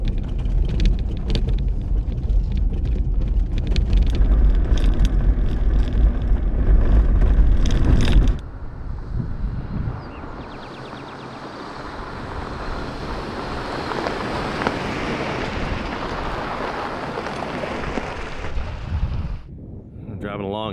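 An overland vehicle drives through red-rock desert country in northern Arizona, heading toward the Grand Canyon from White Pocket. Steady, loud rumble and wind buffeting run throughout, with a heavier low roar in the first eight seconds that then eases into lighter, continuous road and wind noise.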